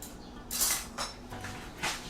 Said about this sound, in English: And now we get to stir it with a spoon.